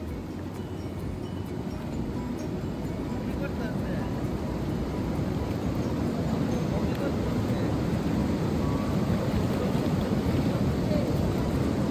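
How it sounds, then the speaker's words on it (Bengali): Surf washing onto Inani beach at Cox's Bazar in the rainy season, a continuous rumbling roar of waves with heavy wind buffeting, loud and unbroken throughout. "ইনানি বিচে পানি আসা পড়তেছে।"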